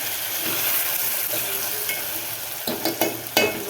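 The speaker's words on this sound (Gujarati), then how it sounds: "હવે હલાઈ નાખી એટલે બધું મિક્સ થઈ જાય" Green peanut curry is stirred in a pan over a gentle sizzle, with a spoon scraping and clacking in a few closer strokes toward the end.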